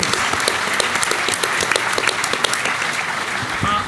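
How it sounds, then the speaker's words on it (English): An audience applauds at a PAX Australia 2019 gaming event, dense and loud clapping that continues steadily for a few seconds. "Big round of applause Give for our human pilot. To James."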